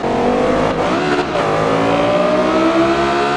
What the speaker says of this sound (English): Listen to that amazing Armatrix exhaust system doing its work.